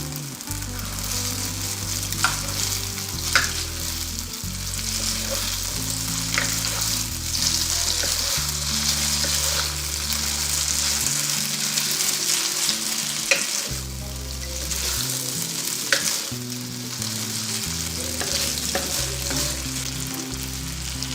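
Spaghetti is tossed and stirred in a pan over low heat, giving a steady soft sizzle broken by scraping and stirring bursts throughout, continuous and fairly close, with no speech.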